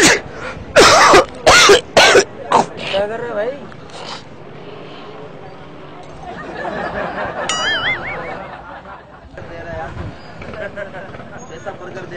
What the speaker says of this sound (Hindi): नाक साफ कर रहे हैं बर्गर के ऊपर तुम यार।